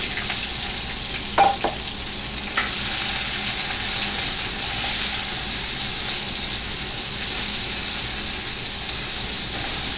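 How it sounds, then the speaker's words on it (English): Bitter melon and garlic sizzling steadily in hot oil in a wok, a dense continuous frying hiss with a couple of brief clattering stirs near the start. "once it starts to change a little bit in color, then you can add the bitter melon"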